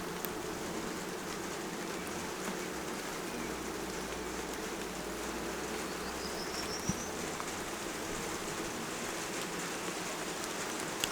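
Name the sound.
rain starting to fall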